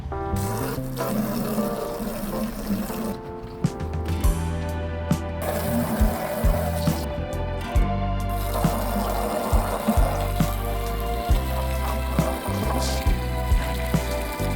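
Water sprays steadily over the rims of a Porsche 996 Turbo, a continuous hissing wash with a low pump-like drone beneath and occasional knocks and rubbing sounds, close and with no talk.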